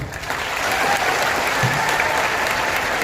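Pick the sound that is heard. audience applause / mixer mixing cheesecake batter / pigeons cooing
audience applause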